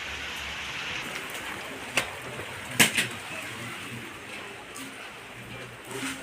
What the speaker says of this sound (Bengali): কন্টিনিউ বৃষ্টি পড়ছে